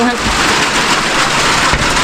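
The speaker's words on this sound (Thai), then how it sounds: "ฝนตกพี่น้อง" Steady, loud rain pours down outdoors at a rural Lao home, a dense continuous hiss with no pauses and no voices over it.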